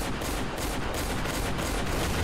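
Dense, continuous gunfire from several weapons in a Roblox shooter, blasting at a swarm of cockroaches, forming a loud, unbroken rattling volley.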